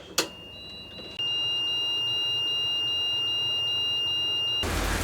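High-level bilge alarm on a catamaran, triggered by lifting its float switch, sounds a steady piercing electronic beep that starts after a brief clunk and carries on continuously, close and loud.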